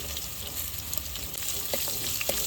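A large onion frying in a pan for a South Indian brinjal curry, giving a steady, close sizzle with faint scraping and stirring knocks, alone without any voices.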